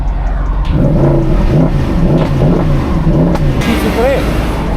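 A Mercedes SLS AMG engine revs steadily and fairly loud, with people talking over it throughout.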